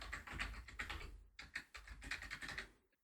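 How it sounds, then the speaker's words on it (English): Rapid clicking keystrokes on a computer keyboard while logging on to Windows, two quick bursts of close, crisp typing with a short pause between and a final trailing tap. "now I can also use my keyboard and mouse to log on to Windows"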